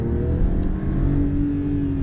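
A 2020 Mercedes-Benz GLS 450 accelerating, heard from inside the cabin as a steady, loud engine drone with a smoothly rising tone and constant road rumble, no talk.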